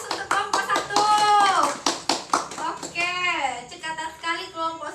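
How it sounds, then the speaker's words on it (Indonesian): Children in a Year 3 classroom clap for group 1, a short burst of sharp, close applause mixed with excited young voices talking and calling out over it. "Berikan aplaus untuk kelompok 1"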